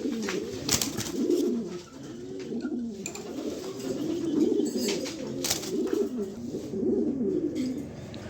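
Imported Belgian and Dutch racing pigeons, a female and a male, coo close by in a continuous stream of low, rolling calls, with a few brief sharp clicks and no voices.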